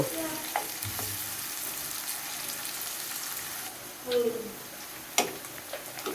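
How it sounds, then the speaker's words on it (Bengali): Chopped onions sizzle steadily in hot oil in a pan, being stirred for a beef brain dish, with a few sharp spatula scrapes and clinks over the continuous frying hiss. "আমি একটু নেড়ে চেড়ে দিতেছি পেঁয়াজটাকে একটু লাল হওয়া পর্যন্ত অপেক্ষা করব"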